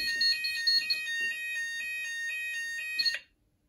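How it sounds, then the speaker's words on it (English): A fire alarm sounder on a Kentec panel system with Hochiki detectors, triggered during a detector test, emits a loud, shrill electronic tone that pulses rapidly and then cuts off abruptly near the end. "the sounder started off quite loud compared to when I did the call point"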